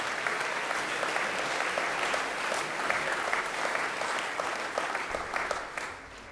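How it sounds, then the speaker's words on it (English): An audience at a school headmaster's gathering applauds steadily, producing a dense, even wash of clapping that holds for several seconds and then eases off slightly near the end. "Give Mr. McDaniel a round of applause."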